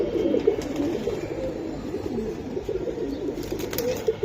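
Gola pigeons at a crowded pigeon market keep up an overlapping cooing chorus, low and throaty, steady for a few seconds with no one speaking.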